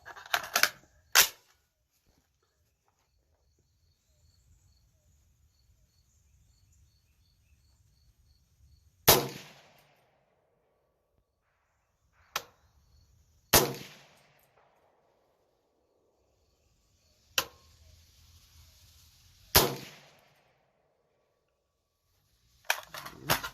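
A 300 Blackout rifle with a Faxon barrel firing 150 grain Gold Dot rounds loaded with CFE Black outdoors from a picnic table rest: several sharp, loud single shots spaced seconds apart, each with a short decaying tail.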